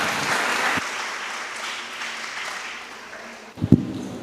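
Applause from a church gathering's audience for a woman named Tia, a steady wash of clapping that thins out, then a brief louder burst near the end.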